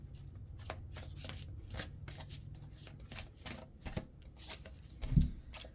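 Astrology cards are shuffled by hand close up, a steady run of soft riffling flicks ending in a louder tap near the end, with no talk.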